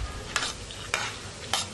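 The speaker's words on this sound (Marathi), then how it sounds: "ते आता शेंगदाणे तळून घेत आहे" Peanuts fry in hot oil in a kadhai for chivda, a steady close sizzle broken by three brief scraping stirs.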